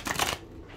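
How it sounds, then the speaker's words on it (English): A brief burst of riffling tarot card shuffling, close and crisp, lasting under half a second before fading to quiet. "Just give the cards a good old shuffle"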